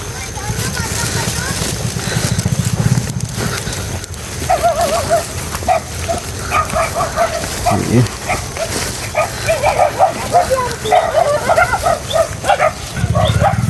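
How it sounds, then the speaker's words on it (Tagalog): Several dogs bark and yip in bursts as they come out to greet arriving visitors, over steady background noise, with people talking now and then nearby. "Ayan na yung mga aso ni Tay Willie. Sinasalubong na tayo"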